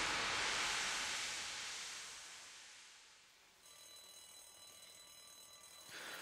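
A vehicle alarm in The Walking Dead video game blares as a loud, bright ringing tone that fades away, then restarts as a fainter, steadier electronic warble near the end, with no voices.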